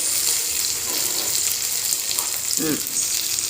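Hot tempering (phodni) sizzles loudly as it is poured into coconut chutney, a dense, bright crackling hiss with a brief stirring or bubbling burst toward the end.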